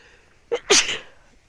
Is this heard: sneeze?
yes